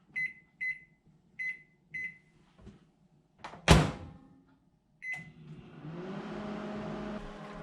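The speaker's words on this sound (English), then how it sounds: "And now we're going to microwave it for 5 minutes." Four soft electronic keypad beeps and a start tone, a loud clunk of the door closing, then the steady hum of a microwave oven running, cooking cauliflower with a little water.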